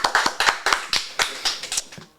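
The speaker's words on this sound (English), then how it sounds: "Clap it up for Sean" A small group claps in a loose, uneven rhythm, about a dozen sharp hand claps spread over two seconds, fairly close and unaccompanied by talk.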